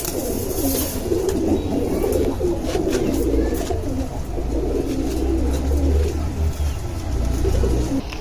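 Old-breed pigeons coo steadily, low throaty calls overlapping in a continuous murmur, close and fairly loud, with faint chirps in the background.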